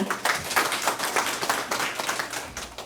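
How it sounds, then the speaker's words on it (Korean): Applause from the audience at an opening ceremony of a citizens' environmental leaders college in Jecheon, welcoming a deputy mayor: many hands clapping in a brisk, continuous patter, moderately loud and close, with no talk over it. "박수로 부탁드립니다"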